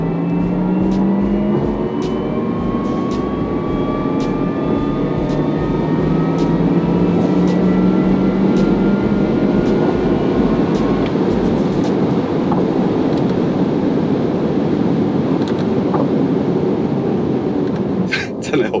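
A Porsche Taycan 4S electric car accelerates hard with a continuous loud rush of road and wind noise and a faint rising electric whine. No one speaks.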